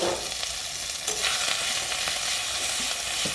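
Ginger frying in mustard oil with turmeric powder, a steady close sizzle with faint stirring scrapes throughout and no voices.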